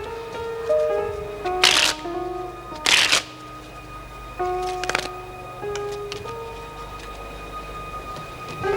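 Playing cards being shuffled in short riffle bursts, two loud crisp flurries near the start and a softer one later, over a steady background tone with faint music.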